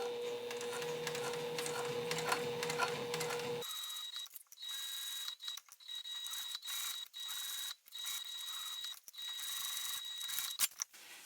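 A sewing machine top-stitches fabric, with a steady motor whir for a few seconds that then stops. Scattered quiet mechanical clicks and taps follow in near silence.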